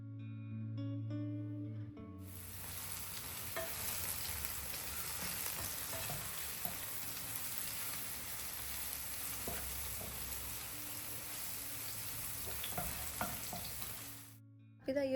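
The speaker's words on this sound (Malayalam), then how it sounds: "അപ്പോൾ ഇതൊന്ന് പഴമൊക്കെ ഇട്ട് കൊടുത്തിട്ട് ഒരു ലോ ഫ്ലെയിമിൽ വെച്ച് കൊടുക്കുക." Ripe banana pieces fry in oil in a pan over a low flame, giving a steady, close sizzle that runs nearly unbroken for most of the stretch, with a few soft stirring knocks and a short quiet lead-in before it starts.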